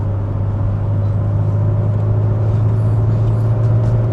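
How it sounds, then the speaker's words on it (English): Supercharged VW Corrado pulling hard on a dual carriageway, heard from inside the cabin as a steady, loud low engine drone with a rising whine, continuous road rumble underneath and no talk. "You feel that supercharger kicking in and that power beneath your right foot."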